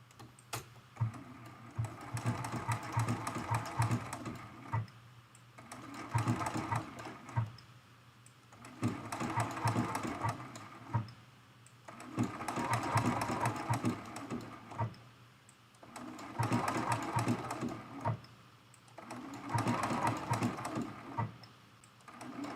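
A sewing machine stitches fabric appliqué on a small mug rug in short runs, its steady mechanical clatter rising and stopping in regular bursts with pauses between, moderately close and no voices.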